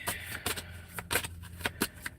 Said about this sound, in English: Yep, here we go with that shuffle.